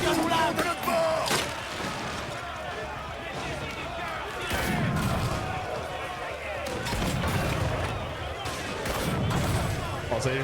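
Cannon fire from a pirate ship in the Assassin's Creed Black Flag video game booms repeatedly in heavy, rumbling bursts amid crowd shouting and dense battle noise, loud and continuous throughout.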